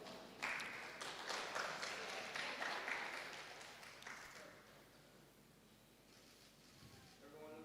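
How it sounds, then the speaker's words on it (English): Applause for the organising committee at a women's football strategy launch, fairly faint, with a burst of clapping for about four seconds before it thins out and fades under room noise. "A round of applause for our committee."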